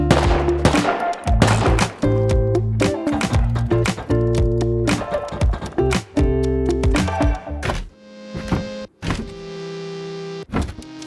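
Gunfire in the survival game Rust echoes around an old north base, with volleys of rapid shots and heavy thuds layered over a dense mechanical hum, loud and continuous with brief gaps.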